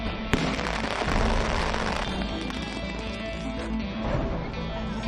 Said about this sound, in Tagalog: Ilan sa mga nakumpiskang iligal na paputok, sinampol ng pulisya kung gaano kalakas.